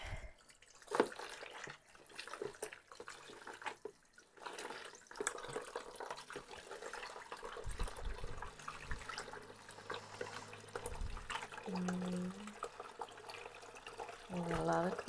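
Running water from a tap splashes and trickles steadily over solar-dyed fabric being rinsed, with faint handling and gurgling sounds throughout at moderate distance.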